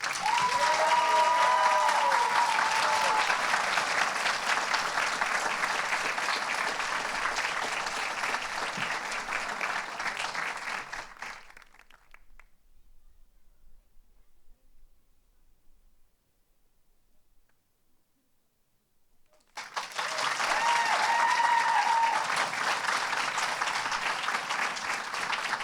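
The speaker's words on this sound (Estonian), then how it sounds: "Palun suurt aplausi." Audience at a school graduation ceremony claps loudly and steadily for about eleven seconds, the applause fading to near silence before another full round of clapping bursts in and continues strongly to the end.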